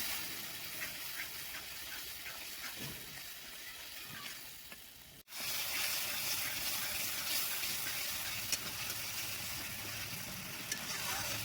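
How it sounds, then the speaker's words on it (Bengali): Ground spice paste fries with onion and tomato in a pan for a Bengali rohu fish curry, giving a steady, close sizzle that breaks off for a moment midway and then resumes just as strongly. "বেটে রাখা মশলা দিয়ে দিচ্ছি মশলাটা ভালোভাবে পেঁয়াজ টমেটোর সঙ্গে কষিয়ে নিচ্ছি"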